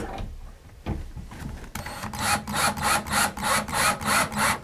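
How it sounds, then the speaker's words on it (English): Three-quarter-inch screws being driven into a shelf through pre-drilled pilot holes. A few clicks lead into a run of rhythmic, pulsing bursts from the driver, close and moderately loud, with no voices. "for this, I'm using 3/4-inch screws to secure this shelf"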